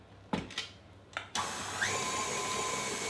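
An electric hand mixer whirs steadily at medium speed, beating semolina and butter into a cake mixture after a few short clicks and bumps, the motor hum loud and continuous for the last half.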